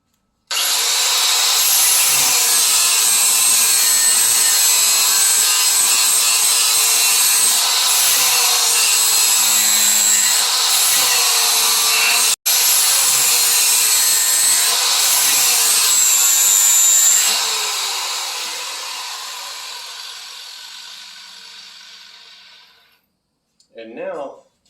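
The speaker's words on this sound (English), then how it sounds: "I'm taking this material down this way, until I reach the bottom edge with what I'm grinding into here" A bench grinder sharpens a lawn mower blade, a loud, steady high-pitched grinding that runs unbroken for about seventeen seconds, then gradually fades as the wheel spins down, with a brief last burst near the end.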